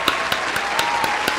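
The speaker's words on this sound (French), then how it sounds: "On s'applaudit." A handful of single, sharp hand claps at a slow, even pace, close and distinct over a steady room hiss, with no other voices.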